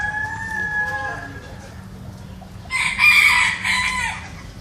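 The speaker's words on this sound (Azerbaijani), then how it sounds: "Oyda, bu hara toyuqlar oldu?" Chickens cluck and a rooster crows loudly near the end at a bird-keeping place in Iran, with farmyard fowl calling at close range and no speech.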